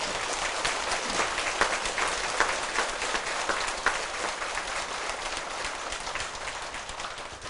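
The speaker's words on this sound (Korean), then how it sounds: "박수 좀 쳐주십시오." Assembled congregation at a Buddhist dharma assembly claps in a steady, dense patter that stays even and moderately loud throughout, with no speech over it.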